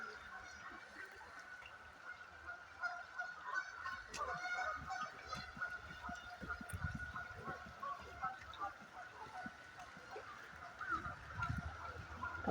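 Geese honk repeatedly near a creek in a wooded backyard, the calls faint and somewhat distant, rising in a loose chorus against soft ambient noise with occasional footsteps or rustling.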